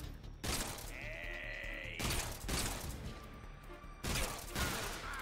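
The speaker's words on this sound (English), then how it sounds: "Now we're just going to go into our Mark 22 headshots like normal." Mark 22 pistol shots fired in a video game, three sharp, quiet reports spaced about two seconds apart over faint game background sounds.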